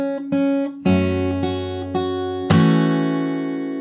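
Fingerstyle acoustic guitar playing chords rung together with percussive thumb slaps on the lower strings, several sharp attacks ringing out and a final struck chord sustaining and fading, no voice.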